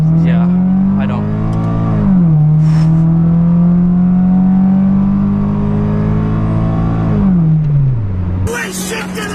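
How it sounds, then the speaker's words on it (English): 1993 Honda Del Sol Si engine, heard from inside the car, revving up and holding near high RPM with a clear rising and falling whine, loud and close; a voice speaks between the pulls. "It sounds good when you get up to high RPM"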